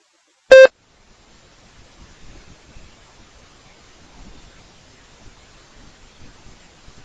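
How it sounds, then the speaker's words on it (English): A single short electronic beep sounds near the start to mark the beginning of a TOEFL practice test response period, followed by several seconds of near silence with faint low rustling. "Begin to prepare your response after the beep."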